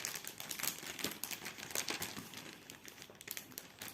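Plastic wrapping on a cross-stitch kit package crinkles as it is opened, producing quiet, close, irregular rustling and crackling that continues throughout.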